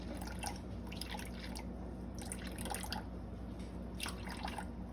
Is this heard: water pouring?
yes